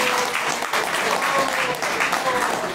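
A crowd claps loudly for the helpers at the seventh day of a Bhagavat katha at a Gaudiya Math temple in Vrindavan, a dense, continuous burst of applause with some voices mixed in.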